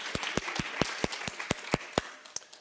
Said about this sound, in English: How about a round of applause for the food?